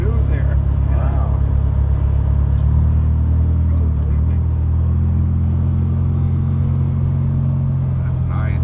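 A 1972 VW Beetle Autostick engine drones steadily while driving, a loud low rumble with a slight pitch rise midway, heard from inside the car with a voice talking over it.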